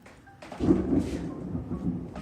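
Thunder rolls in as a low, muffled rumble that swells after a brief quiet start and slowly fades, heard close and without any talking over it.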